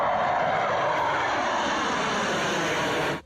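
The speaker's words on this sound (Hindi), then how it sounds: "सबसे पहले एक सुखोई फाइटर जेट तेजी से उड़ते हुए आया और एक्सप्रेसवे को चूम कर निकल गया" A Sukhoi fighter jet sweeps low over an expressway with a loud, continuous broadband roar that holds steady close by before cutting off sharply at the end.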